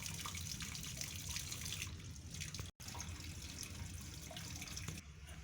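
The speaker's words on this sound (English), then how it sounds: "Draining boiler down." Water drains steadily from a Potterton commercial boiler, a continuous hissing, splashing flow with one brief break partway through.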